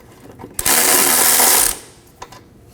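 A ratchet wrench spins in a quick burst as it breaks loose a bolt on the vapor canister bracket of a 2015-2023 Nissan Maxima 3.5L V6, with a single close, loud stretch of rapid clicking lasting about a second, then quiet.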